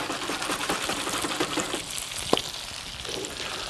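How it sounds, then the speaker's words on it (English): Chicken fried steak deep frying in hot oil, a steady dense sizzle and crackle close by with a single sharp pop near the end, no talking. "when you're deep frying these bad boys, you only want to do it about 2-3 minutes aside"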